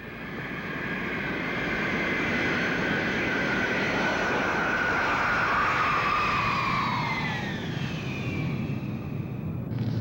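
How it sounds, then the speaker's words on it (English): A military transport airplane flies at night out of Benoit Airport during the Vietnam War, its steady engine roar swelling and holding with a whining tone that slides downward, loud and close throughout, with no voices. "As the plane flew into the darkness at Benoit Airport"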